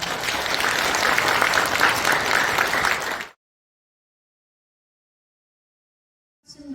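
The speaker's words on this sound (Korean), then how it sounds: "감사의 박수 부탁드립니다" An audience claps after a sermon at a Christmas worship prayer breakfast held in a National Assembly conference hall, steady loud applause for about three seconds that stops abruptly, followed by silence.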